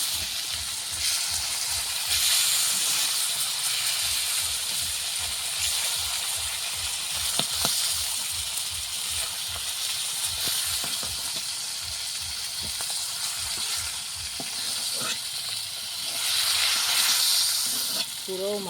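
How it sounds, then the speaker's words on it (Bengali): Fish frying in hot oil in a home kitchen: a loud, continuous sizzle and hiss with a run of rhythmic scraping or stirring strokes, close up and without talk. "মাছগুলো সুন্দর করে ভাজা হয়ে গেছে"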